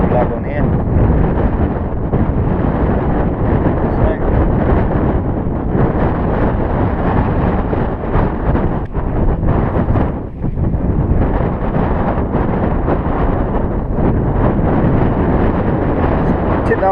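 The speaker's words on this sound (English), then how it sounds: "It is very windy. It's blowing a hoolie." Strong wind on the shore of The Swale, Kent, roars and buffets the microphone without a break, a loud, constant rushing that gusts and swells throughout.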